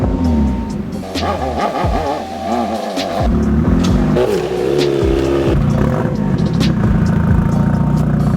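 A Nissan 350Z being pop started: the engine catches and revs loudly and close, with rising and falling roars and uneven surges as it comes to life.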